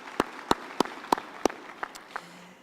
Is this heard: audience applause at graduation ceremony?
yes